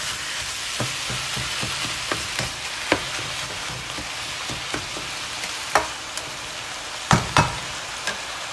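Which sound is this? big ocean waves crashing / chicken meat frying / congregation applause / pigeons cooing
chicken meat frying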